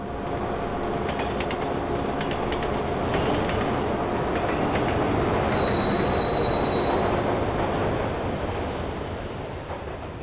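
A train rumbles steadily through this Septerra Core video game scene, a loud continuous rolling roar with metallic wheel squeals and brief high screeches, no talking.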